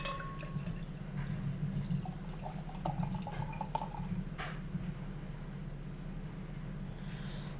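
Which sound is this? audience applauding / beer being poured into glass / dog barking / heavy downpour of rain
beer being poured into glass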